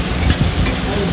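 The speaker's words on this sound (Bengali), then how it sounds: "আলুগুলোকে ডুমো ডুমো করে ছোটো ছোটো করে কেটে ভেজে নেওয়া হচ্ছে" Small diced potatoes frying in hot oil, a dense steady sizzle with stirring scrapes, close and continuous, with no voices.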